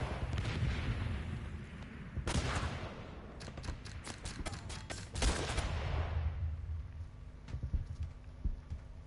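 Rapid bursts of gunfire and heavy shots from the wave-based combat game Guns Up, wave 279, clatter in dense irregular volleys alone, with no voices over them.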